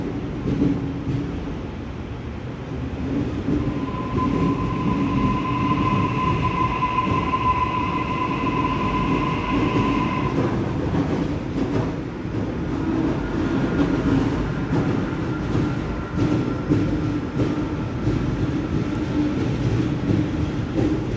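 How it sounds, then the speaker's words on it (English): A Sydney Trains electric train at North Sydney station, terminating there, rumbles steadily and loudly throughout, with a sustained high wheel squeal in the first half before it fades into continuous rail and motor noise. "This train was supposed to go to Gordon, but it won't be going to Gordon today. It will terminate here at North Sydney"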